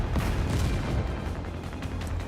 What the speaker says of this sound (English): The sky is dotted with explosions.